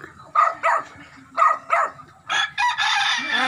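A dog barks in short sharp pairs from a moderate distance in a seaside neighbourhood, then lets out a longer, drawn-out call.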